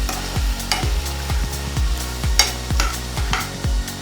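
A cabbage mix being stirred through chicken in a hot pan for chicken salad, with regular scraping strokes of a spoon roughly twice a second over a steady low sizzle.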